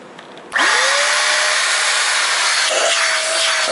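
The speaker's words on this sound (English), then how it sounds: "I should just get my other vacuum and vacuum it out." A second vacuum cleaner switches on abruptly and runs steadily while cleaning out a cloth filter. Its motor whine rises quickly, then holds as a loud, close, continuous roar.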